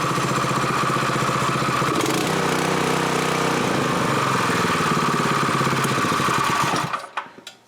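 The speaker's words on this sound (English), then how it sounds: "Usually these will not start even hot unless you choke them." Predator 212 small gasoline engine running steadily and loud at close range with a constant mid-pitched chug, then shut off near the end, its rattle dying away in a few sputters.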